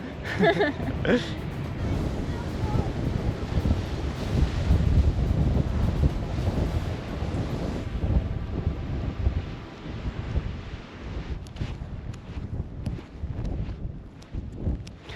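Steady wind roaring across a sandy dune shore on Corfu, Greece, with a low rumble of surf underneath; the blustery noise eases and thins toward the end.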